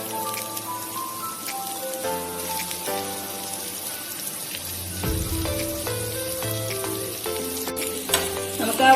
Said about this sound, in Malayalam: ബാക്കിയുള്ള ഓയിലോട്ടില്ലേ 2 വലിയ സവാള ഇടുകയാണ്.